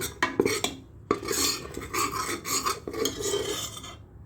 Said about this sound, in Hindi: इसको लगातार चलाते हुए तब तक भुनेंगे जब तक कि बेसन की भुनने की अच्छी से खुशबू नहीं आने लगती